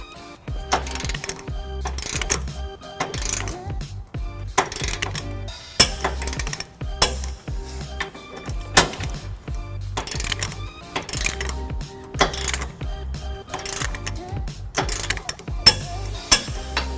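Socket wrench with a 19mm socket torquing a trailer hitch bolt on a 2015 Nissan Titan, a rhythmic series of close metallic ratchet clicks and clanks repeating steadily with no talking.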